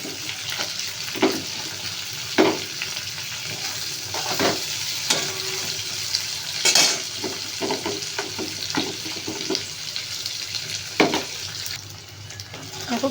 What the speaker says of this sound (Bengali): দেখো পেঁয়াজটা একটু ভাজা ভাজা হয়ে গেছে।